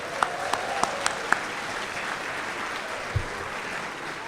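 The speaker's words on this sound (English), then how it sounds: "Let's give them another round of applause." Banquet guests applaud the retirees in a sustained round of clapping, with a few sharp, louder claps near the start and a single thump later, a dense even wash of hands with no voices.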